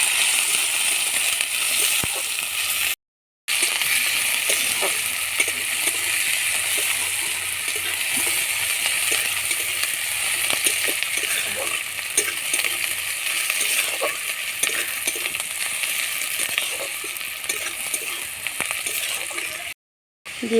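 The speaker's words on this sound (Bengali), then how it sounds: "দিয়ে পেঁয়াজগুলোকে ভেজে নেব।" Chopped onions frying in mustard oil in a pan, a steady close-up sizzle with scattered crackles and light clinks, broken by two brief silent gaps.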